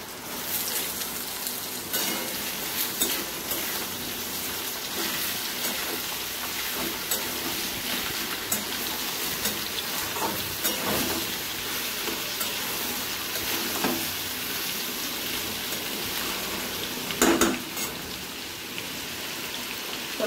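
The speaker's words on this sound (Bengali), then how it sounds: "কড়াই গরম হয়ে গেছে, তেলও গরম হয়ে গেছে। এবার আলুটা ভেজে নিই।" Potatoes frying in hot oil in a heated wok, a steady, dense sizzle that runs unbroken for the whole stretch at moderate loudness, with no talk over it.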